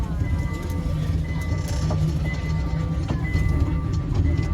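Wheels of a kiddie ride train at an outlet mall rattle and clack in a steady low rumble, with faint voices in the busy indoor background.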